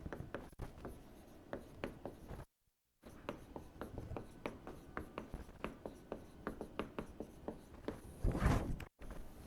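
Chalk or marker writing on a board during a physics lecture on divergence and curl: quick repeated taps and scratchy strokes in irregular bursts, with a short pause and a louder rub near the end, fairly faint.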